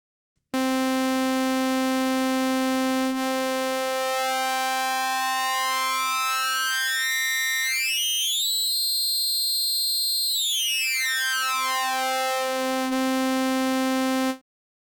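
A Yamaha MODX M synthesizer plays a single held note on an AN-X waveform with self-sync pitch, a bright buzzy tone whose overtones sweep up and back down like a siren before it cuts off.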